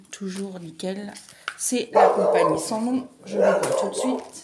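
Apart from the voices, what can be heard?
dog barking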